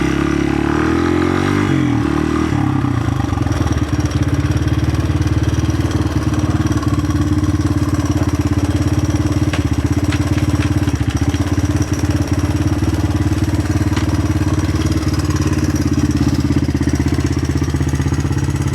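A Honda XR200R motorcycle engine runs steadily, with a loud, continuous low rumble and mechanical clatter close by, a brief revving surge at the start and no talking.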